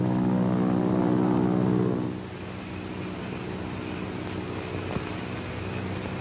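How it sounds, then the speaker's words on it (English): Propeller airplane droning overhead, loud for about two seconds and then fading into a steady distant hum, with no talk. "Do you hear a plane?"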